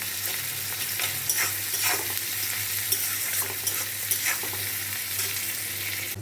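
Onions sizzle steadily in a pan with soy sauce and salt while a spoon scrapes and stirs at irregular intervals, close and continuous with no talk.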